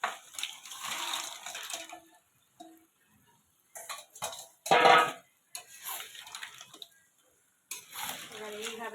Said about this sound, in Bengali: এবার এইভাবে ক্যাকড়া মশলার সাথে মিশিয়ে যাব, এইভাবে কষিয়ে যাব।